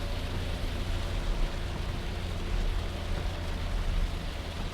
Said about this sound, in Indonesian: Ini masih hujan deras ini.